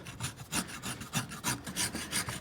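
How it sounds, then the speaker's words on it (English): A rasp scrapes a horse's hoof in a heavy scoring motion before a glue-on clog is fitted. About a dozen rhythmic rasping strokes are heard, close but fairly soft, with no talk. "go ahead and do a heavy score with the corner of your rasp"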